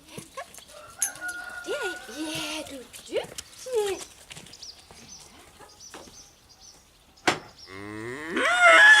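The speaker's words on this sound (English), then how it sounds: "And then come the cows." Cows mooing at night on a dairy farm, several drawn-out moos in irregular bursts, some near and loud, with a louder bellow at the end.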